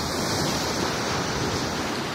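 High-tide seawater on a Gujarat shore rushes up around the feet, a loud, dense, unbroken wash of surf close to the microphone.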